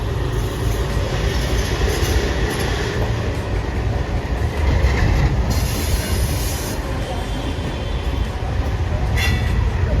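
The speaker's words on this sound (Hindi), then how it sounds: "अमृतसर का रेलवे स्टेशन ये आई है अभी शताब्दी एक्सप्रेस, नई दिल्ली अमृतसर स्वर्ण जयंती शताब्दी एक्सप्रेस।" The Swarna Jayanti Shatabdi Express rumbles at Amritsar railway station with a constant loud roll of wheels and coaches, plus bursts of high metallic wheel squeal throughout.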